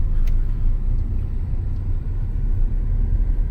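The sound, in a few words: Hyundai i20 petrol car driving in third gear, AC on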